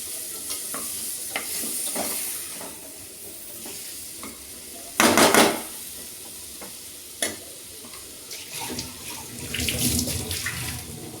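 Water from a rinsed mixer-grinder jar is poured into a pan of chow chow and green field bean masala, with soft stirring and sizzling throughout and louder splashing bursts midway and near the end.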